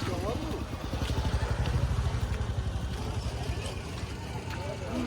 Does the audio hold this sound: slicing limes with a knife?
no